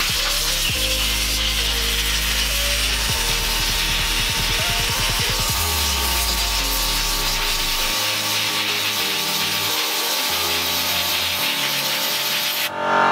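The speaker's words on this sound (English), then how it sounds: "So I'm just going to cool it down with some air now." Compressed air blows steadily onto a freshly welded steering column to cool it, a loud continuous hiss close up that runs the whole time and cuts off at the end.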